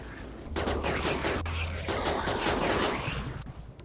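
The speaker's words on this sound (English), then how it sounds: "Okay, let's fire you guys." Rapid gunfire from a firefight in the video game RimWorld, dense bursts of repeated shots crackling steadily for several seconds, loud and close, with no talk over it.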